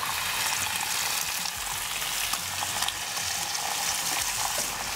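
Bacon and ham frying in a pan with a little oil on a grill, a constant dense crackle and sizzle with scattered pops, close and unbroken, no talking.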